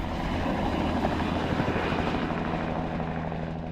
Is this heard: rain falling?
no